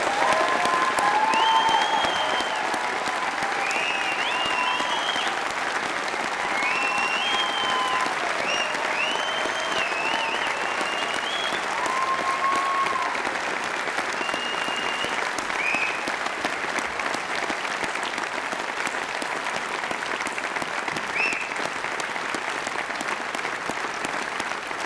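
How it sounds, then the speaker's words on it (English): Long, steady round of applause from a large audience at a university graduation ceremony, continuous dense clapping throughout, with faint voices and cheers rising in the crowd. "I'd like you all to join in a really great round of applause for all our graduates."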